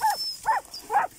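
Hunting dogs of the calingo type, used to chase paca, give three quick sharp barks in an even rhythm, fairly close and clear with no talk.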